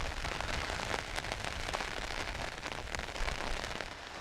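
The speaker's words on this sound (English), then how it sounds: "It's been steadily raining for about 8 hours now." Steady rain falls in a dense, continuous wash during a hurricane, with scattered louder drops pattering close by and no voices.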